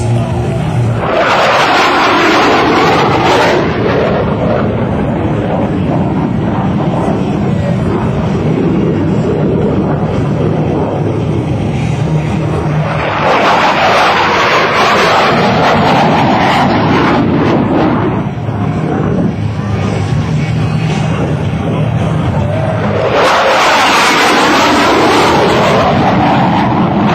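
F-104 Starfighter jets in trail formation make a high-speed pass at an air show, a loud roaring jet rush that swells and fades in three successive waves as each aircraft thunders by.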